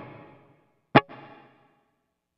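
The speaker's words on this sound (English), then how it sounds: "I'm gonna just see what the reverb sounds like on this particular patch." A guitar through a clean Kemper amp patch with reverb: a fading chord, a sharp struck note, and then a short ringing reverb tail that dies away into silence.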